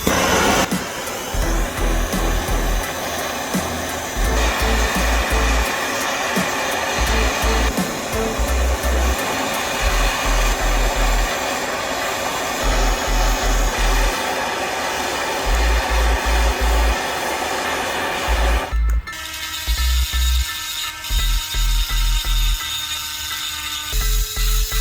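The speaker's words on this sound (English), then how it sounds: "We'll fill that in with the brazing rod as well." A brazing torch roars steadily and loudly up close while a brazing rod fills a stripped bolt hole, the hiss broken by brief pauses and a sharp change near the end.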